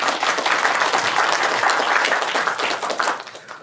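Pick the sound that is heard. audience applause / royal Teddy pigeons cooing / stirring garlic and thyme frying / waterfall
audience applause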